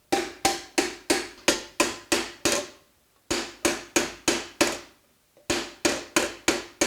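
A silversmith hammers silver over a steel stake to smooth out bouging-hammer marks: sharp, ringing metallic blows fall in steady quick runs of about seven, each run broken by a short pause, loud and close.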